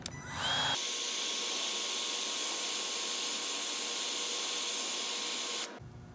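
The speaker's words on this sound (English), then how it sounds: "Then we're going to go ahead and take a heat gun." A heat gun shrinks a shrink-wrap butt connector during wiring for a power-folding tow mirror install on a 2007-2014 Ford F150. It gives a loud, steady blowing roar for about five seconds, switching on abruptly and cutting off at the end.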